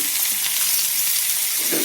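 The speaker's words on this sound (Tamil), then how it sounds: "காயை போட்டு 2 வதக்கிடலாம்." Vegetables sauté for moor kuzhambu in a pan, giving a steady close sizzle and frying hiss that runs without a break and with no talking.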